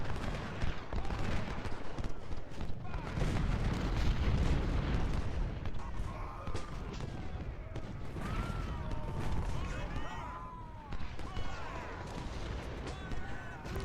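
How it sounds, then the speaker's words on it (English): Rumbling barrage of cannon and artillery fire across a Civil War battlefield in the Ultimate General: Civil War strategy game at Antietam, a dense continuous roar with scattered booms and swelling crowd-like battle noise throughout. "Lots of artillery down there."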